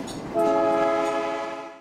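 A train on a railway nearly 130 years old gives one loud, close horn blast that holds steady and then fades over under two seconds, with no voices.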